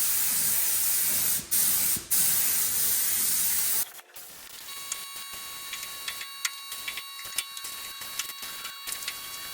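Spray-can paint hissing during rust repair on an R32 GT-R, with long continuous bursts for the first four seconds, then a quieter shop with faint short sprays and light ticking.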